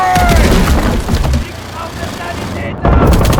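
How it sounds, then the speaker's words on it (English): Enemy artillery shells burst in the World War II strategy game Call to Arms: Gates of Hell, loud booms and crackling gunfire over a battle din, with a voice shouting through it. "Enemy artillery!"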